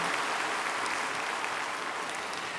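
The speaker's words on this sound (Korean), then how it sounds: "박수하겠습니다." A church congregation applauds after new members are proclaimed during a Sunday service, a soft, continuous patter of many hands sounding somewhat distant and even throughout.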